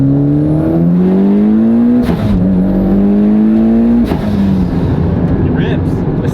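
A Mitsubishi Evo X engine on a dyno revs hard and loud up close, its pitch climbing steadily through two long pulls with brief drops between them.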